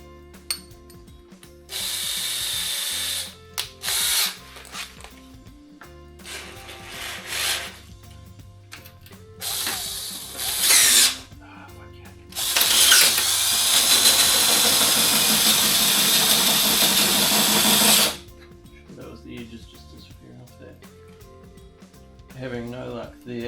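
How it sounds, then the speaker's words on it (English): A cheap power drill drilling metal on a Honda ST90 motorcycle whirs in several short bursts separated by pauses, then runs in one long, loud stretch before stopping. "Can't get the chuck on the drill tight enough."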